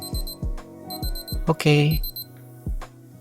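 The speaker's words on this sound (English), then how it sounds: "the timer goes off and it will give beeping sound like this" A Casio LF-30W digital watch sounds its countdown timer alarm: bursts of sharp, high electronic beeps in quick groups of three or four, repeated between clicks, handling noise and a person speaking nearby.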